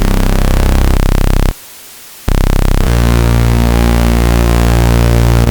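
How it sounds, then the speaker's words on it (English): A bright, buzzy synth chord from the Vital synthesizer, two saw oscillators with a hiss of white noise layered in, briefly cutting to near-silence before the sustained tone returns. "and some white noise."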